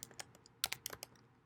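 A computer keyboard is typed on in a quick, irregular run of crisp keystrokes, close and fairly quiet, with no voices.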